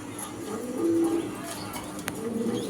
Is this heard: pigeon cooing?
yes